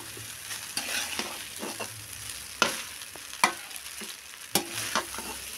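Chicken fried rice being stirred in a frying pan, restaurant style, with soft continuous sizzling under scattered scraping and clinking strokes of a utensil, a few sharper knocks standing out, close and moderately quiet.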